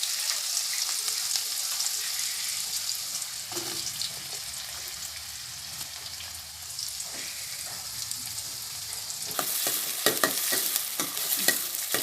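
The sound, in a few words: onions sautéing in sesame oil for fish curry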